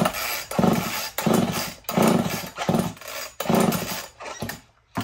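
An old Homelite chainsaw being pull-started, five rough bursts of sputtering engine noise separated by short gaps as it fires briefly and dies, close and fairly loud, with no voices.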